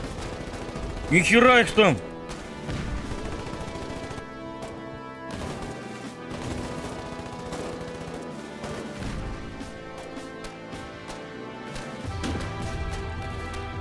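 Gunfire in the war game Foxhole: repeated shots and bursts crack through a noisy battle background, with someone speaking briefly over them near the start.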